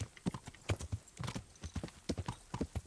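Horse hooves clip-clop at a steady trotting rhythm in the Kingdom Come Deliverance video game, close and fairly quiet, with no talking.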